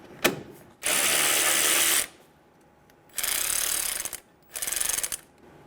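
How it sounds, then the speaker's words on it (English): A ratchet fitted with a 10mm socket turns the coolant reservoir bolt on a 2000-2007 Ford Focus 2.0L, making three bursts of rapid clicking, close and distinct, with quiet gaps between them. "Using a 10mm socket, remove the bolt for the coolant reservoir."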